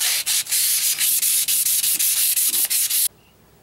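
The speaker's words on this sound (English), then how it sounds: "320 grit sandpaper here." Fast, steady strokes of 320 grit sandpaper rub on an Evinrude 9.9 outboard lower unit, loud and close, with brief gaps between strokes before it stops abruptly.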